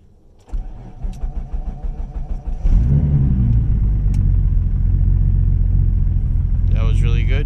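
1997 Mitsubishi 3000GT VR-4 with a single PTE6870 turbo cranks, then settles into a loud steady rumbling idle and rev, heard from inside the car with the window lowered near the end.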